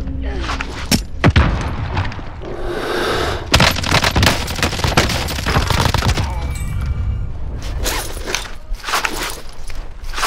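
Gunfire in the video game Call of Duty Modern Warfare: loud, close bursts of shots and sharp cracks in irregular clusters, mixed with footsteps and movement noise, heavy and chaotic throughout.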